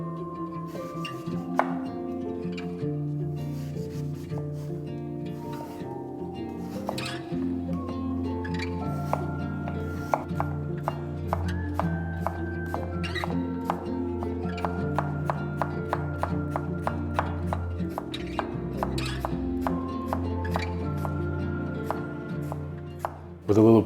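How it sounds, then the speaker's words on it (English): A knife chops a Fuji or Gala apple into fine matchsticks on a board, with fast, even taps repeating in a steady rhythm throughout, close and crisp, under a soft tonal backdrop. "Chop one Fuji or Gala apple into fine matchsticks."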